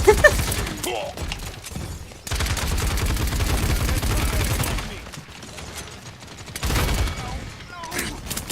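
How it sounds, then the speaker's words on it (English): Gunfire and grenade blasts from the online shooter game Paladins come as sustained bursts of rapid shots and booms, loud and dense through the middle, with brief lulls, sharp impacts and a voice speaking over parts of it. "I forgot I have grenades."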